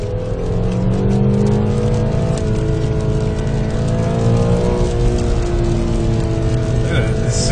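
Subaru race cars at Watkins Glen raceway on opening day, a loud continuous engine drone with rising and falling revs in close range, and people talking over it.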